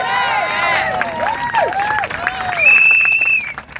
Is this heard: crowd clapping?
yes